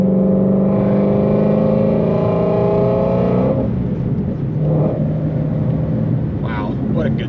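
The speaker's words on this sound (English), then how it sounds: "Oh, and that exhaust." Supercharged Ford Shelby GT350 with an aftermarket exhaust, a loud, sustained engine drone that rises and then drops off, heard from inside the car.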